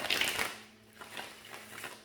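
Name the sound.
shuffling tarot cards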